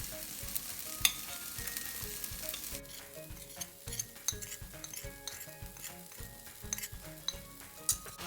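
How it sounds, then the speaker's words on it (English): Flour being whisked into melted butter in a pan gives a soft sizzle under rapid metallic scraping and clinking of the whisk against the pan, loud and continuous. "Mix it well with a whisk."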